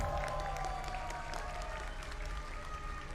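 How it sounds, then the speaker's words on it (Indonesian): An esports arena crowd applauds during a Mobile Legends match between Aura Fire and Onic, a steady, moderately loud roar of clapping and cheering from a large audience, with a faint hum under it. "mana tepuk tangannya?"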